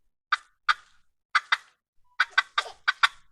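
Wooden turkey box call worked with its paddle, sharp raspy yelps in short bursts: two, then a pair, then a quick run of five, close and alone against silence.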